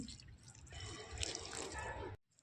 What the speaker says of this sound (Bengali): এখন এর মধ্যে জল দিয়ে দিচ্ছি